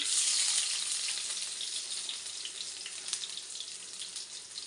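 Sliced onions fry in hot oil in a kadai on the stove, giving a loud, steady, close sizzle that runs unbroken and eases off slightly toward the end, with no voices.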